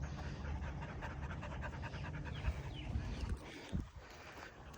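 A puppy resting in the shade at a dirt-work site for a large shop build pants steadily in rapid breaths, faint and close, over low rumbling background noise.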